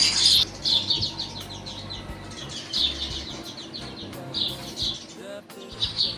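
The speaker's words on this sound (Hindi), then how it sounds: "ये चिड़िया ना ऐसे लग रहा है जैसे खेल रही हैं, एक दूसरे के साथ भागा दौड़ी कर रही थी।" Small birds chirp and twitter in repeated bright bursts around their nests outdoors, moderately close, with rustling and low background noise throughout.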